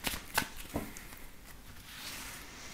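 A deck of cards is shuffled for a tarot-style reading, with a few quick riffling bursts near the start followed by quieter handling, close and faint with no talking.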